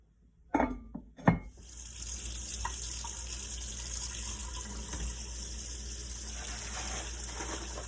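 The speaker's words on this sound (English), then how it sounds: "And add water." Tap water runs into a cooking pot for ham hocks after a couple of clanks, then a steady, moderately loud gushing stream continues alone for several seconds.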